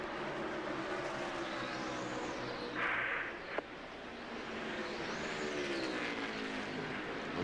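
NASCAR stock cars roaring around Dover Downs International Speedway in 2001, a steady loud engine drone with passing cars sweeping up and down in pitch, one sharp crack midway.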